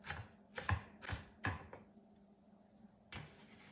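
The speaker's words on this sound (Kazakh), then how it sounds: "енді аскөк, яғни укропымызды турайтын боламыз. Мелкий етіп тураймыз, майда етіп." Dill chopped finely with a knife on a board, giving five sharp close knocks in quick succession, a pause, then one more knock, with no talking.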